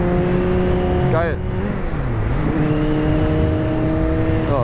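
A Kawasaki Z900 A2 motorcycle limited to 48 PS drones loudly while riding, its engine note dipping and then climbing again through a gear change, with wind rush underneath.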